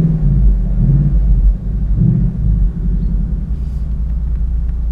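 A Ford Mustang V8 of 450 hp idles in circuit mode with a loud, deep, steady rumble that swells briefly, close by and with no voices over it.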